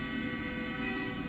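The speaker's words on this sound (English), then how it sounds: "oh, I hear train." A train rumbles past with a steady droning hum in the American Truck Simulator game on PC, a brief, moderately faint passage with no talking over it.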